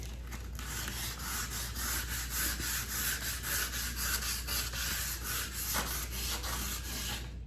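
Wooden furniture is sanded by hand with a steady, continuous rasping scrub in quick back-and-forth strokes, close and even in loudness throughout.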